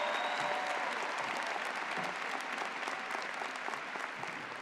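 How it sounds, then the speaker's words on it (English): A commencement audience applauds steadily, a dense wash of many hands clapping at even strength throughout, with faint crowd murmur underneath. "Let's give him another round of applause."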